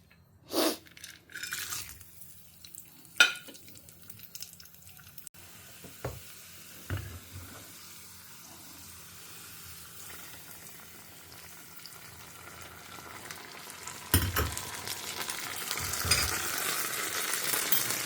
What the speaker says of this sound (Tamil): கொஞ்சம் நெய் சுட்டுன்னா இதை போட்டு வறுத்து கொட்டிடலாம்.